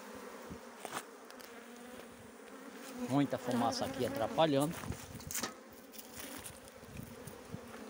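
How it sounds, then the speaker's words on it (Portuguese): Honey bees buzz loudly and continuously around an opened standard hive box during an inspection after a colony transfer, with someone speaking briefly over the swarm. "a caixa está assim, ó, totalmente cheia de abelha"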